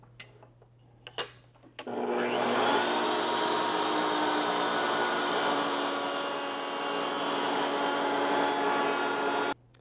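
A router fitted with a 3/16 inch round-over bit switches on after a few knocks and runs as a loud, steady high-pitched whine while shaping the wooden parts of a piano jewelry box, continuous for about eight seconds.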